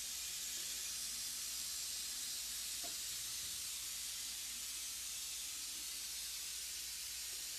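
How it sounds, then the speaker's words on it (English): A ProAiir stipple tip fitted to an airbrush sprays onto canvas, giving a steady, close, loud airy hiss that runs unbroken for the whole stretch with no talking. "It attaches to the end of the airbrush, and what that does then is it's going to provide a very fine stipple."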